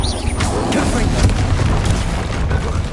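Confringo fire spell blasts in Hogwarts Legacy, a dense, continuous booming rumble of explosive magic with overlapping bursts and voices under the noise.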